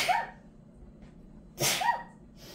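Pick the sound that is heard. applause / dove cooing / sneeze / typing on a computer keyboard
sneeze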